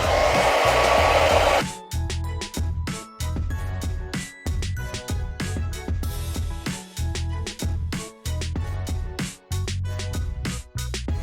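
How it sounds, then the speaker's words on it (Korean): A hair dryer roars loudly for a moment, drying paint, then keeps blowing behind a busy musical backing that chops in and out. "잠시 드라이기를 사용해서 말려주어도 좋아요"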